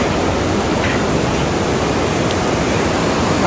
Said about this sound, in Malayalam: ദുൽഖോഷി നദിയുടെ സൗണ്ട് കേട്ടോ